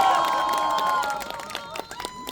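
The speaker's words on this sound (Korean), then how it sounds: "함성을 잘 지르셨네요." Supporters cheer and clap at a mayoral candidacy press conference in Suncheon, a sustained crowd roar with whistles and shouts that fades into scattered applause and a few isolated calls.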